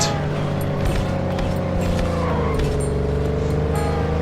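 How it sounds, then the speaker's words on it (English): A car engine in The Godfather video game drones steadily with a rising and falling rev as the vehicle is steered, loud and continuous with no talk over it. "whip that car over to the right."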